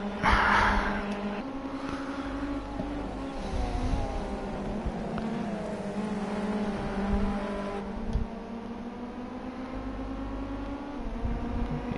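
Engine of a rear-wheel-drive race car in a sim racing game at the Hockenheimring Short circuit, a continuous loud drone that rises and falls in pitch through gear changes, with other cars audible.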